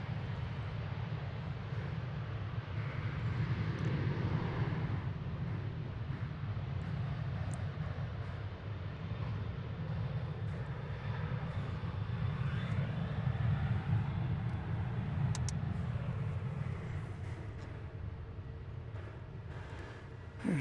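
A Challenger business jet on a runway at DFW Airport gives a steady, loud low engine roar that holds for the whole stretch, with no talk over it.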